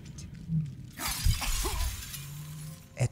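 A brain jar made of glass shatters in Baldur's Gate 3 with one sharp, bright crash that rings briefly and then fades, followed by a low game hum and a few soft effects.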